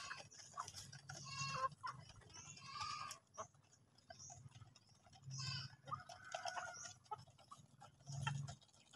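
Heritage breeder chickens fed breeder feed on a farm, a flock clucking and calling in busy overlapping bursts, with a louder call near the end and other farm animal noise mixed in.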